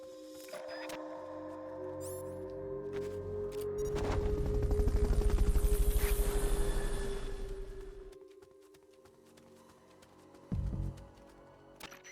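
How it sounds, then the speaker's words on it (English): Helicopter in the Metal Gear Solid Peace Walker video game, a steady rotor drone that swells to a loud, dense whir in the middle and then fades back down, with a brief thump near the end. "Fulton recovery subject confirmed onboard helicopter."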